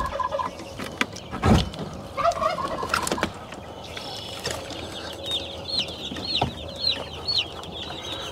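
A turkey gobbles several times in rapid rippling bursts, loud and close, with chicks peeping and farmyard clucks around it.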